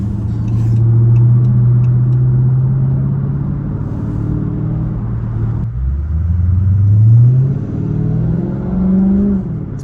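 A Dodge Charger SRT8's deep V8 exhaust rumbles and burbles up close, its revs swelling, dropping, and climbing again over steady engine noise.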